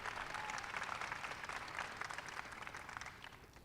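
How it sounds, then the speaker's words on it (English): A crowd at a White House astronomy event applauds a young student, a quiet, continuous wash of distant clapping that thins slightly toward the end. "Give Proudham a big round of applause"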